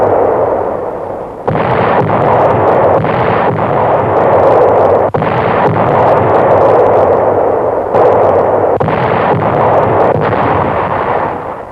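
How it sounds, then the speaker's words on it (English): Big artillery guns fire in a sustained barrage near fortified Metz, loud booming blasts overlapping into a dense, roaring wall of explosions with a few sharper reports standing out. "Our big guns open up."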